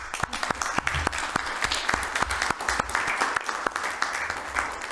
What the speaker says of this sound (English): she deserves, I think, a round of applause